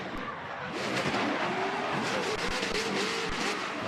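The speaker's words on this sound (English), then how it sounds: "Have a listen to that high revving LS, Ben." High-revving LS V8 engine of a drift car racing at a state drifting series round, a continuous loud, strained roar with wavering pitch and tyre noise, heard from a distance.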